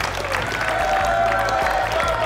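An audience applauds a team with steady, dense clapping and a few cheers, loud and continuous throughout the short burst.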